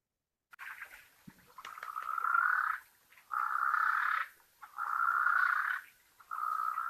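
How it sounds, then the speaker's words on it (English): A Swainson's spurfowl gives repeated harsh, raspy calls in rhythmic bursts, each lasting about a second, moderately distant against a quiet background in the African bush. "Sounds like maybe a Swainson spurfowl calling there."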